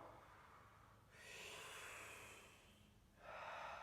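Deep breaths drawn during an evening yoga breathing exercise, two long airy rushes of breath near the microphone separated by a quiet pause, soft but clear with no talking.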